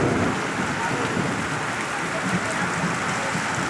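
Heavy rain pours steadily in Bandung during a downpour, a dense, constant roar of water hitting surfaces that holds at the same loudness throughout with no pauses.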